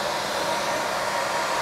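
A hair dryer, running at up to 600 degrees, blows a steady, loud broadband rush of hot air onto a glued wooden table surface during a chalk-paint restoration of an extendable table, with no talking.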